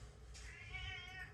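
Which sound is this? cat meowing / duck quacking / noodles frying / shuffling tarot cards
cat meowing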